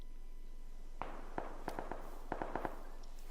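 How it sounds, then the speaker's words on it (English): Distant gunshots in the PUBG video game, a scattered series of about ten sharp cracks in loose bursts, faint and far off over a quiet background. "I know there's someone over here now because he's shooting in the background"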